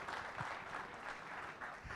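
Applause for the Chief Minister at a public event, fairly faint and distant, a soft continuous patter of many hands with gentle swells and no clear individual claps.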